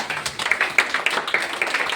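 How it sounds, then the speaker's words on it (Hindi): Applause from a classroom of students clapping together for a classmate during a Class 10 maths lesson, a steady burst of many overlapping hand claps, fairly close and sustained throughout. "एक बार जोरदार ताली"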